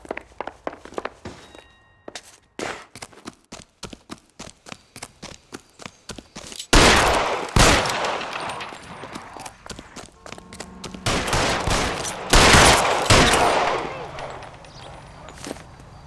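Gunfire in the 1940s Los Angeles crime game L.A. Noire cracks out as scattered close shots followed by heavy, loud volleys of rapid fire in the middle and near the end.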